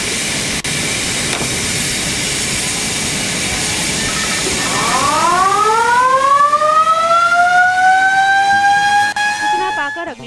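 A fire engine siren wails during a gas leak mock drill at an industrial plant, rising in pitch midway and then holding a loud, sustained tone over background noise.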